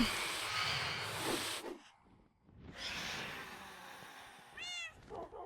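Cats meow in Minecraft, with a short rising meow standing out near the end over a broad wash of game ambience. No voices are heard.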